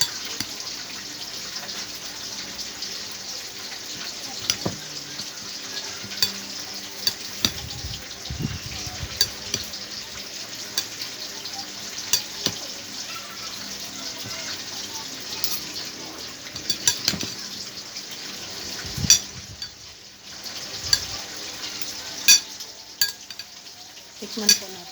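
Food being stirred and mixed in a frying pan, with scraping utensil clatter and a steady sizzle throughout, close and moderately loud, and no talking.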